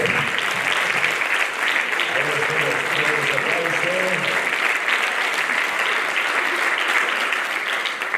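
An audience at a mountaineering awards gala applauds in a sustained, dense wash of clapping lasting several seconds, with a voice briefly heard over it early on.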